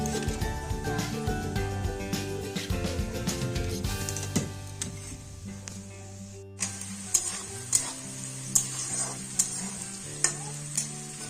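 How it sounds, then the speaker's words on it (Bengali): Carrots, beans and peas fry in a pan for fried rice, a low sizzle under repeated scraping and clanking stirs, with sharp metallic knocks after a brief pause. "আর এখানে গাজরটা ভেজে নিচ্ছি, আর এরকম করে সব সবজিগুলো, বিনস, মটরশুঁটি ভেজে নিব।"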